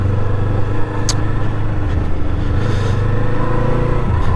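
A Kawasaki Eliminator motorcycle rolls down a dirt road, its engine holding a steady, loud low drone with slight rumbling variation and a brief sharp tick near the start, no voices.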